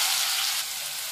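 Finely chopped onion sizzles in hot oil with a pinch of asafoetida and cumin, a brief loud hiss that eases off slightly partway through.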